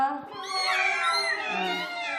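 Children's voices imitate a cat, drawing out a long, wavering meow in a high pitch, close and clear.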